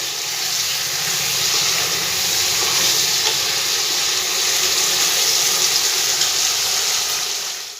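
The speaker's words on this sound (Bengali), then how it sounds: "এবার ভালো করে সিমটা একটু ভেজে নেব।" Flat beans sizzle steadily in a pan, seasoned with salt and turmeric, with a loud, close, continuous frying hiss and no talking.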